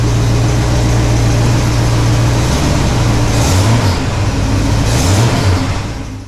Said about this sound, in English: This is me revving it up a little bit.